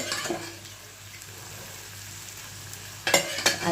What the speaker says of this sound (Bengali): চলো এটাকে আমি আরও ভালো করে কষাবো স্টক দিয়ে